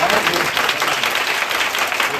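A congregation at a Hindi-Marathi church service claps loudly and steadily throughout, a dense, continuous wash of applause close by with faint voices mixed in.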